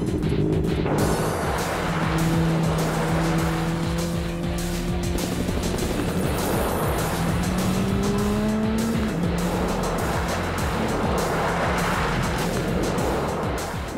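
Race car driving fast with screeching tire squeals and sliding skids over a loud, continuous engine roar, the squeals rising and falling in long sweeps throughout.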